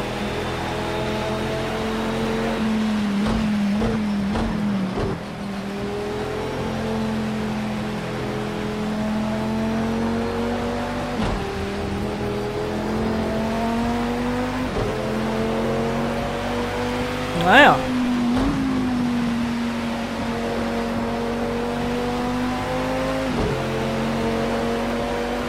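Race car engine in Assetto Corsa Competizione, a steady droning note that climbs through the gears, drops sharply on each shift and holds throughout, with a brief high squeal near the middle.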